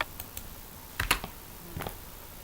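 Keys clack on a computer keyboard, a few quiet scattered taps followed by a sharper cluster of keystrokes, heard close in a quiet room with a faint background hiss.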